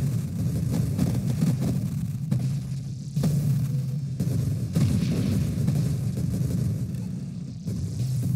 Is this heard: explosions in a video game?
yes